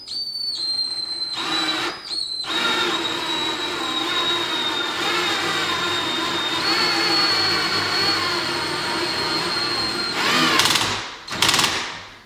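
A power driver drives a trim screw into a pre-drilled pilot hole for a removable stair rail, a close steady motor whine with brief stops and restarts, and a few short bursts near the end.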